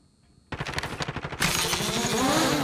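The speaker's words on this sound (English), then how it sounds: "They're shooting out the window at people" Gunfire from a window in a video game: a rapid rattling volley of shots, loud and close, swelling into dense, continuous firing.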